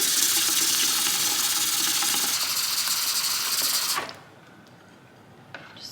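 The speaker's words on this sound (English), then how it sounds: "Then we're just gonna top it the rest of the way off with more hot water." Hot water pours steadily into a homemade laundry detergent mixture, a loud continuous splashing rush that stops abruptly, leaving a quiet room with a small clink near the end.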